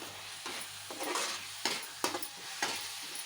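Paneer masala curry with curry leaves and coriander being stirred in a pan: steady oily sizzle broken by four or five scraping spoon strokes, close and clear, with no talking.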